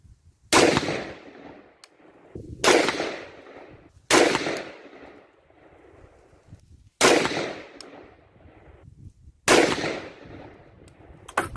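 Five sharp rifle shots from a 5.56 rifle firing handloads of 77-grain Sierra MatchKing bullets over Reloader 15 powder, spaced about two seconds apart, each loud crack trailing into a short outdoor echo.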